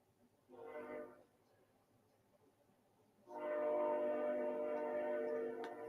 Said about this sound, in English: Excuse the train, y'all.